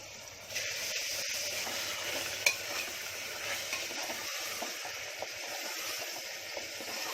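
Steady sizzling of jackfruit seeds roasting in a hot pan, with occasional scrapes and clinks as they are stirred; no voices.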